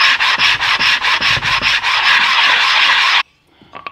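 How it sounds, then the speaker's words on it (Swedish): Sandpaper is rubbed by hand over a wooden box with an embroidered lid, giving loud, close, rhythmic back-and-forth rasping strokes that merge into a continuous scrub before stopping abruptly. "När vi har putsat ordentligt"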